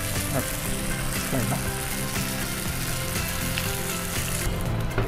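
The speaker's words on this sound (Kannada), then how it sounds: "ಈಗ ಒಂಚೂರು ಫ್ರೈ ಮಾಡುವ ಇದನ್ನು." Crispy potato bites frying in a pan: a dense, steady sizzle and crackle of hot oil runs throughout, close and fairly loud, with faint clicks as pieces are moved.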